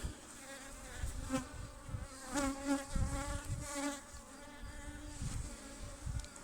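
Anatolian honey bees buzz around an opened hive as a close, wavering drone, with individual bees swelling louder as they pass near and then fading.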